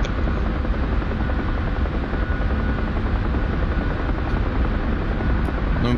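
Helicopter in the DCS flight simulator game, a loud, steady rotor drone and whine that holds constant throughout without other sounds.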